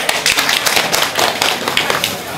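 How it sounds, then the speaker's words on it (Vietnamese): Wedding guests at a Vietnamese marriage ceremony break into a loud, dense round of clapping, close and continuous from start to finish with sharp overlapping hand claps. "Các cụ cho về một tràng pháo tay"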